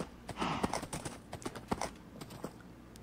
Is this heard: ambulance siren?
no